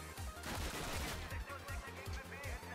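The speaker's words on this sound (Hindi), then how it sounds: "गोलियों की आवाज़ आती है मेरी जान निकलती है" Rapid automatic gunfire in Call of Duty 1, a dense stream of rhythmic bursts that runs loud and steady for the whole stretch, with no talking over it.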